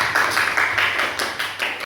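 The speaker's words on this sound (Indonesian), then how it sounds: "tepuk tangan untuk kita semua" A classroom group claps hands together in a brief burst of rapid, uneven applause, fairly close and moderately loud, ending abruptly.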